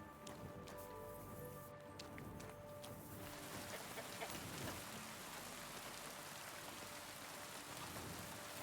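Rain falls in a medieval village setting in the video game Kingdom Come: Deliverance 2, a soft, steady hiss with faint hen clucks at first, low and distant.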